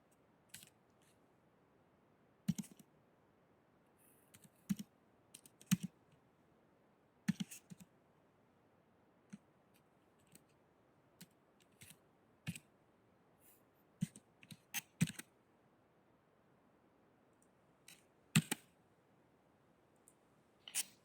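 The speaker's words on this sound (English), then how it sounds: "so we're typing in this equation" Sparse, quiet keystrokes on a computer keyboard as an equation is entered into a spreadsheet cell, irregular single clicks and short bursts spread over a near-silent background.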